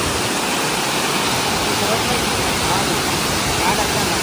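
Arbi Falls near Malada roars as a steady, loud, close wash of rushing water that fills the whole stretch without a break.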